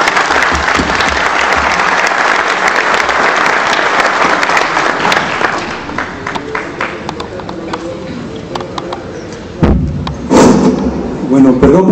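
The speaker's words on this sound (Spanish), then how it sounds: "Vamos a recibirlo con un aplauso." Audience applause at a book presentation on Mexico's electricity sector, a dense burst of clapping that fades after several seconds, followed by thumps and a speaker's voice.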